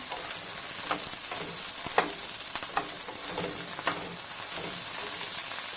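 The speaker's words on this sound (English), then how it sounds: "So now I'm going to add the onion and the green chilli. And then mix them and fry them again." Onion and green chilli sizzle steadily in a hot pan, with occasional sharp crackles and scraping stirs over a constant frying hiss.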